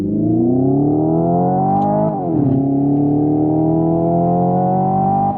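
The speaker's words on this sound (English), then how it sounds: "the Hyundai Ioniq 5N, which not only simulates engine noises, but gear shifts as well" A Hyundai Ioniq 5N plays a loud, continuous simulated engine drone that rises steadily in pitch, drops sharply at one simulated gear shift, then climbs again, with no one talking.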